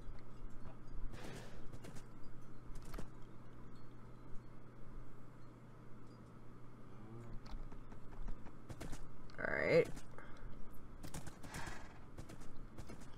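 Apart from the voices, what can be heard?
horses in Minecraft video game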